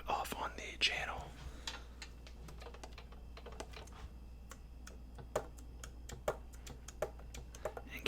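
Keys of a new saxophone clack softly in close, scattered taps and clicks, with a whispering voice at the start over a low steady hum.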